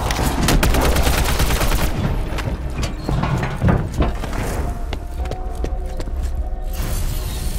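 Gunfire in an undead-attack video game: dense, loud bursts of rapid shots and booms pour out at first, then thin to scattered cracks and mechanical clatter, with no talk.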